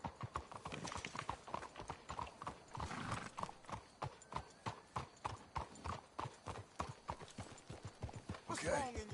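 Horses in Red Dead Redemption II walk with steady, close hoof clip-clops in an even rhythm, with a brief whinny near the end and faint voices under the hoofbeats.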